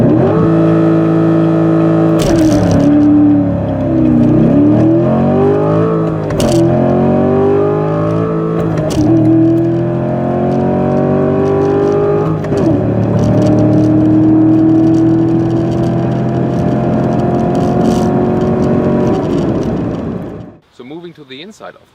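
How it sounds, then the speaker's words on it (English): A Chevrolet Corvette C7 Stingray's loud engine revs and accelerates continuously from 0 to 200 km/h, its pitch climbing through several gear shifts before cutting off abruptly near the end. "you like how I did this 0 to 200 kilometers or 0 to 125 miles acceleration"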